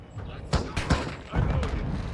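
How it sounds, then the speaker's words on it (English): Airstrike explosions in the video game Call of Duty Modern Warfare II land as several sharp, close booms and thuds in quick succession, with rumbling debris between the blasts. "Hostiles called in an airstrike."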